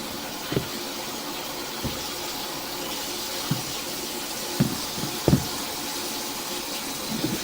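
Water runs steadily through a drain pipe with a soft rushing hiss, punctuated by a few brief gurgles and knocks.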